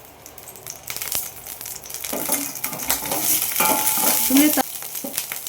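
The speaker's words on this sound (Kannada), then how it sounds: "ಡ್ರೈ ಫ್ರೂಟ್ಸ್ನ ಹುರ್ಕೊಂಡ್ಬಿಡೋಣ" Dry fruits fry in ghee with a steady sizzle and crackle, stirred in the pan, rising and growing louder midway before easing; a brief word is spoken.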